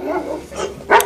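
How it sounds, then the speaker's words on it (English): A dog barking sound effect, with a couple of short yipping barks close up, the last one loudest and sharpest, heard alone without talk. "Dogs. No, not those kind of dogs."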